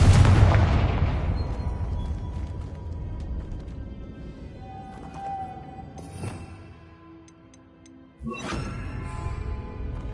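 A Confringo fire spell bursts in Hogwarts Legacy with a loud, rumbling blast that slowly fades, followed by a sharper second explosion near the end, both heavy and close.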